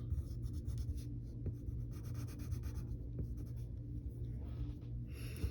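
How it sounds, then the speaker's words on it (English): The side of a pencil rubbed back and forth over paper to shade a cartoon superhero's hair black, a close, continuous scratchy rasp in quick repeated strokes over a low background hum. "Then I'm going to color in his hair black with the side of my pencil."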